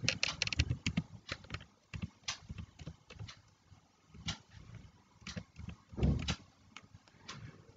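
Username being typed on a computer keyboard: irregular bursts of close, crisp key clicks, some single taps and some quick runs, with short pauses between them.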